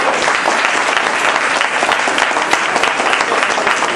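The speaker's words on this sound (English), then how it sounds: "So by round of applause, you show me who you think should win" Loud, close audience applause during a student-versus-teacher school debate, a dense continuous roar of many hands clapping without letup, with no voices rising above it.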